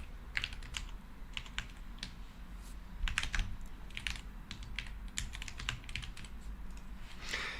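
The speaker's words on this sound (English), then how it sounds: "what is with her typing?" Someone types fast on a computer keyboard in steady bursts of quiet, close clicks, with short pauses between runs and no talk.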